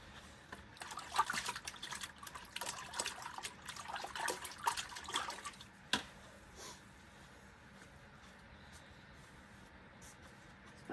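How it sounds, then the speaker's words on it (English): A big brush loaded with acrylic paint is rinsed in a water container, giving soft, close swishes and small splashes through the first half before fading to near quiet. "I rinse my brush out."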